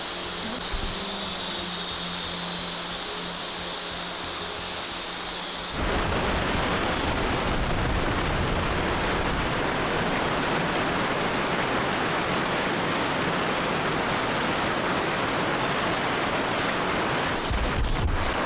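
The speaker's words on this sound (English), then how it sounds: "We heard the wind coming. It sounded like a train or airplane coming at us." A loud, sustained roar of strong wind rushes in through jungle at Gunung Leuser National Park and holds steady like a broadband rumble, after a quieter stretch with a faint high insect-like drone.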